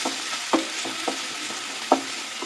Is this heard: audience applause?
no